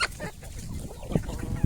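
Native chickens on a farm give a few short, soft clucks close by over quiet background rustle.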